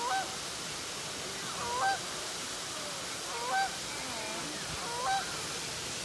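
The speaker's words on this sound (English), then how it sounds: "Wow. Goose. Hello. Don't bite me. Hello, Goose." A goose honks in a few short, separated calls at moderate distance over a steady outdoor wash, with a longer gap between each honk.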